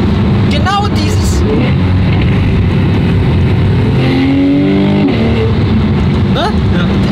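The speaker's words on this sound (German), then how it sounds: "Ich kann diesen Klang, ich kann das gar nicht, das hat nur Porsche." A Porsche 991 with a sport exhaust revs hard and shifts gears, a loud close engine roar rising and falling in pitch, with people talking over it.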